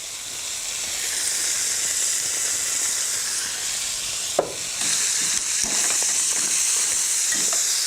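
Garlic sizzling in olive oil in a pan alongside scallops, a steady close hiss and crackle with a brief clatter partway through, no voices over it.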